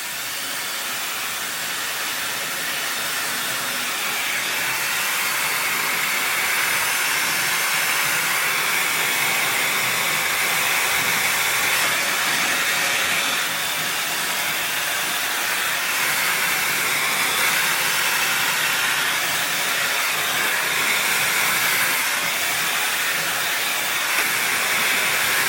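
A T3 Aire IQ blow dryer runs on medium heat and medium airflow, a steady, loud, close whoosh of air with a high whine that holds without pause for the whole stretch, no voices over it.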